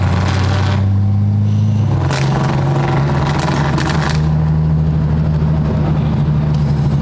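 Datsun 240Z engine droning loudly on the Albert Park F1 circuit during a parade lap, a steady close in-car roar with a gear change and the revs climbing and holding, no talking.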